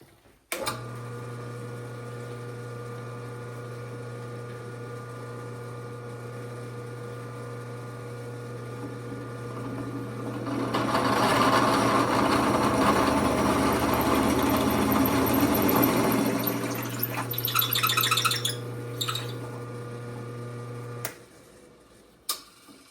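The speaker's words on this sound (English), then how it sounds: "It's a depth stop for doing countersinking." A machine running with a steady hum while a hole is countersunk using an old aircraft tooling depth stop, the cutting growing louder and grittier in the middle before the motor winds down near the end.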